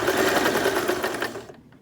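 Domestic sewing machine stitching at pedal-controlled speed, a steady close mechanical whir with rapid needle rhythm that runs continuously before cutting off near the end.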